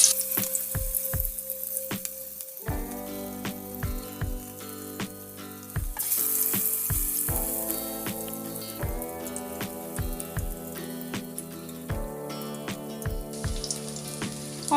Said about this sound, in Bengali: একদম অল্প পরিমাণ বেসনে ডুবিয়ে আমি এক এক করে কড়ার মধ্যে ছেড়ে দেব